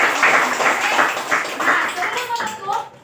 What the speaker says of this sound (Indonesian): Tepuk tangan dulu Pak Ibu.